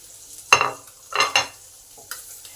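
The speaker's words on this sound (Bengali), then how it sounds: "ডিম আর পেঁয়াজটা ভাজা হয়ে গেছে, এবার একসঙ্গে মিলিয়ে দিই।" Fried egg and onion with turmeric, chili and cumin powder being stirred in a pan produce three or four distinct scraping strokes over a faint sizzle, close and fairly loud.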